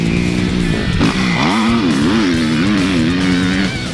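A Kawasaki KX250F 2017 motocross motorcycle engine revs up and down in rising and falling waves, loud and close, with a rough buzzing tone throughout.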